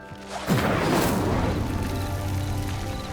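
A fire spell igniting a pyre in Hogwarts Legacy: a sudden loud whoosh and boom, then a sustained roaring, crackling burn that continues at steady strength to the end.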